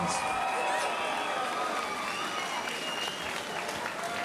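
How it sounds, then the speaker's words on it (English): At a women's bareknuckle fight event, a large crowd claps and cheers continuously, a dense roar of applause filling the space with a few voices rising above it. "Please make some noise, Danielle Wynn."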